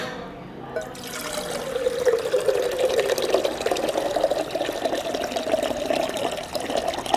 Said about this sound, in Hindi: एक मेरे पास ये डब्बा है, दूध का डब्बा है, खाली है, इस पर पानी भर देते हैं।